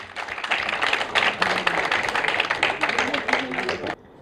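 Audience applause at a mushaira as a poet is welcomed: steady, dense clapping from a crowd lasting several seconds, then cutting off abruptly.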